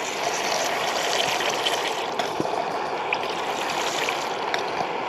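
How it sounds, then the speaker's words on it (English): Water squeezed from a small bottle into a camping stove pot outdoors, a steady close trickle and pour running unbroken with a few faint knocks, no talking. "So I'll get this pot filled up now. Just got my little water bottle. Just squeeze some in."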